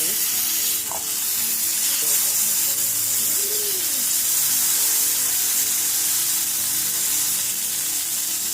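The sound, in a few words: burger patty frying in a pan for loco moco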